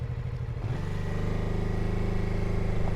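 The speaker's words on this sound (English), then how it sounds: "Let's see what happens with this small 420cc engine if I try to get a move on without using the clutch in third gear" A small BMW F 450 GS 420cc single-cylinder engine strains as it pulls away in third gear without the clutch, a low, steady, close throbbing drone that settles into an even lugging rhythm after a brief uneven start.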